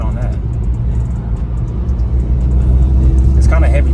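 A 2023 Mercedes-AMG C43 with a four-cylinder engine revs and pulls in heavy traffic. It gives a steady, loud, rumbling drone that swells toward the end, heard from inside the car alongside a talking driver.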